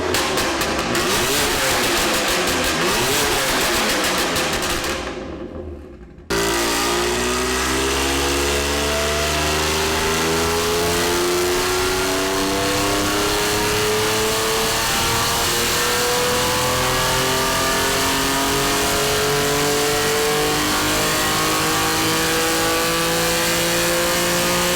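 A BMW M2 Competition with a tuned downpipe and exhaust revs hard on a dyno, climbing in a long rising engine sweep, cutting out sharply, then pulling again in another extended loud rising run.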